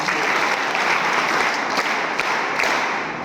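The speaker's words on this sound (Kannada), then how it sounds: "ಅವರಿಗೊಂದು ಜೋರಾದ ಚಪ್ಪಾಳೆ." Steady, dense applause from a crowd at a World Yoga Day school event, many hands clapping at once, loud and continuous, tapering slightly at the end.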